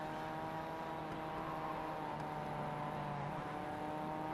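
A race car drones steadily through a racing video game, its engine a continuous mid-loud hum with layered harmonic tones and no clear pass-by swell, heard alone with no talk.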